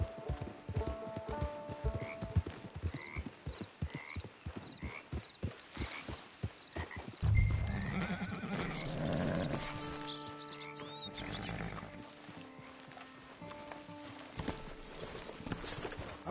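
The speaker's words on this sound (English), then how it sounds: "It's your horse." In Red Dead Redemption 2 Online, rhythmic clip-clop of horse hooves trots steadily, then a horse whinnies, followed by soft tonal game music in the background.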